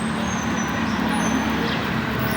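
A city bus pulls up at a roadside stop, its steady engine rumble and road noise filling the scene continuously, with a faint hiss suggesting air brakes as it arrives.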